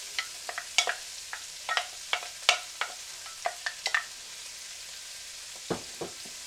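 Carrots, celery and onions cooking over medium heat in a pan, with a soft sizzle under scattered sharp clicks and scrapes of a utensil stirring, fairly quiet and close, with no speech.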